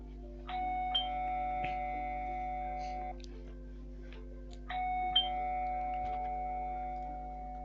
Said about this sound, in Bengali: বাইরে কলিং বেল বেজে